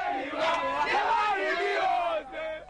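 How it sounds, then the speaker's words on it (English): A crowd of onlookers roars and whoops around a boys' boxing fight in a tough neighborhood of Accra, Ghana, a dense, continuous wall of shouting voices close by, briefly dipping near the end. "A crowd grows quickly and won't accept a backward step."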